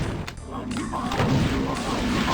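Gunshots and booms in the video game Doom 2, dense rumbling blasts and weapon fire layered over each other, with someone talking over them.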